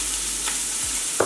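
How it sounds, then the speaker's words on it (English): Onion and celery sauté in a hot pan, a steady soft sizzle running throughout with a light utensil scrape or tap near the end, no voices. "So I saute the onion"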